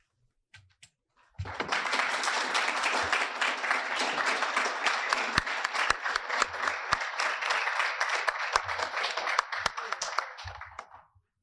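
Audience applause fills a campus event hall, dense clapping starting abruptly and holding steady for about nine seconds before fading out, with a few brief sounds before and after.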